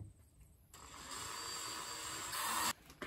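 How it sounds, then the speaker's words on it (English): A power drill whines steadily at a high pitch for a couple of seconds, then stops abruptly, briefly restarting near the end; fairly quiet and close, drilling through metal on a Gleaner combine harvester. "now we're gonna drill through the other side"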